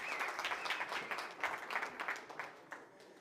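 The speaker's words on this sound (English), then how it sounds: "Give yourself a round of applause." Audience applause at the Actual & Virtual Summit 2022, a moderate round of clapping from a seated crowd that rises with scattered sharp claps and then thins out toward the end.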